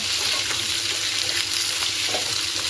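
Apple pieces frying in a pan for apple chutney give a steady, close, continuous sizzle throughout, with no talking.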